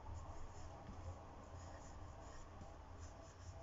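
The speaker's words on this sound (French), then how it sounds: "J'écris donc le nombre" A pen or pencil scratches softly across paper, writing out a number by hand in short, steady strokes, faint and close with no voice.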